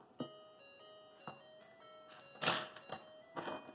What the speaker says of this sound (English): Ice cream truck music.